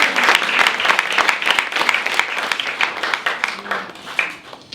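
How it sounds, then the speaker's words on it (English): An audience at a launch event at the Jamaican High Commission claps steadily and loudly, a dense wash of many hands that fills the room. The applause tapers slightly toward the end. "please give yourselves a round of applause"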